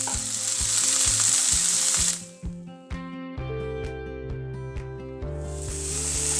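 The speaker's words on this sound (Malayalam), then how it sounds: "തക്കാളി നല്ലപോലെ ഒന്ന് കുക്കാവട്ടെ." Chopped onion and tomato fry hard in a pan with a loud, close sizzle. The sizzle drops away for a few seconds behind a steady tonal hum, then swells back.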